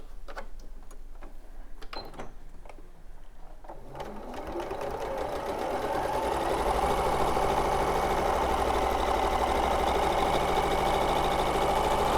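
A sewing machine stitches a quarter-inch seam in a quilting studio: a few light clicks and handling sounds at first, then the motor whirs up and runs at a fast, steady, continuous hum.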